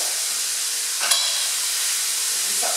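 Bacon sizzles in a pan for a sausage and bacon casserole, a steady loud frying hiss broken by a brief scrape of stirring partway through.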